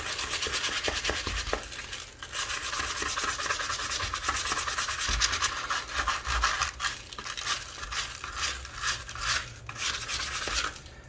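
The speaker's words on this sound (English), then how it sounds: "We're going to take some nice 220 grit sandpaper" 220 grit sandpaper rubbed by hand back and forth over wooden trim while filling holes, a close, steady, rasping scrub with quick rhythmic strokes and a few brief pauses.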